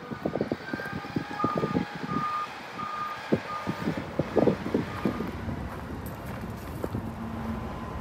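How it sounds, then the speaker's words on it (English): Back-up beeps from a construction vehicle repeat in a steady series near a construction zone along the Rideau Trail, with a truck engine rumbling, passing traffic and wind buffeting the microphone. "Kind of noisy here. We're just leaving a construction zone"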